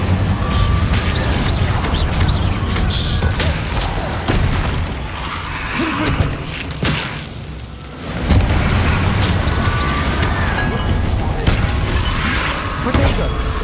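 An Incendio fire spell whooshes and roars in Hogwarts Legacy amid a dense, loud battle mix of impacts and crashes that continues steadily throughout.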